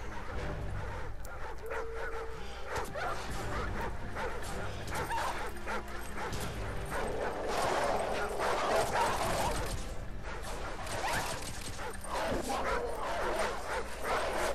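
Several dogs bark, yip and whimper almost without pause in a Call of Duty 4: Modern Warfare attack scene, loud and close over dense game noise, with a voice talking over them.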